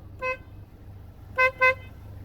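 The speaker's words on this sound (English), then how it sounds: "That's because only the high pitch horn is working." A 2018 Honda Accord horn with the low-pitch horn faulty, so only the high-pitch horn sounds: one short thin toot, then after a pause two quick toots, near and clear over a faint idle rumble.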